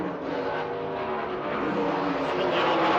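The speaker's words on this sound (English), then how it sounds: "Sweeping through now, Warwick Brown in 2nd spot, then Kevin Bartlett, then John McCormick it was who went through" Formula 5000 race cars sweep past at Calder Park in 1972, a loud continuous engine roar that builds slightly and fills the scene, with no talk over it.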